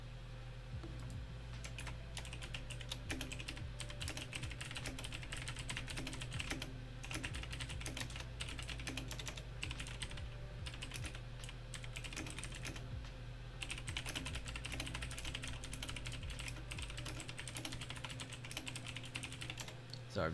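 Rapid, continuous typing on a computer keyboard rattles on for about twenty seconds, dense clustered key presses over a steady low hum, close and moderately quiet with no speech.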